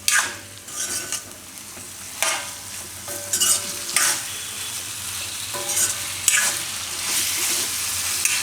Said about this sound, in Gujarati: આ રીતે મિક્સ કરી લેવાનું.